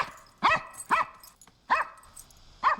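A dog in a Smallville TV episode barks four times in sharp, separate yelps spaced about half a second apart, fairly close and clear with little else around.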